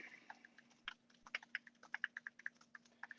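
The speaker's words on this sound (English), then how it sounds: "Don't mind my typing." Quiet typing on a computer keyboard sounds close by, a quick irregular run of soft key clicks with a few firmer taps, over a faint steady hum.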